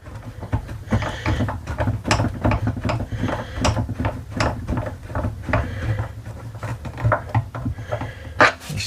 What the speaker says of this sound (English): Get the second screw in. Make sure you don't cross thread it.